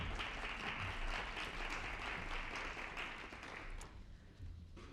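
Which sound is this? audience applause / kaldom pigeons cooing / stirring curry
audience applause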